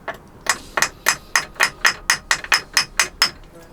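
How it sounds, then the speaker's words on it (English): Steady metallic hammer taps on an engine water pump, about a dozen evenly spaced strikes in quick succession, close and fairly loud, with no talking, on a Universal M2-12 diesel engine. "May have to get a hammer. Okay, so let's see if I can tap this thing out"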